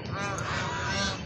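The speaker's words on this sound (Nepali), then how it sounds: "यो चाहिँ हाँस रहेछ" A goose honks nasally during an early-morning walk by a city pond, a short close call with a harmonic, buzzy tone over faint outdoor background.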